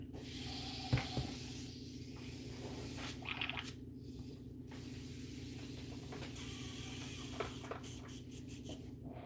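An airbrush sprays paint in a soft, steady hiss close by, broken by a few brief pauses and small taps, fairly quiet overall.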